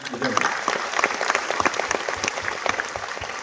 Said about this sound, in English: it calls for a round of applause to them